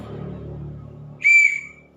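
A single sharp whistle blast rings out, loud and close, after a low murmur of background sound.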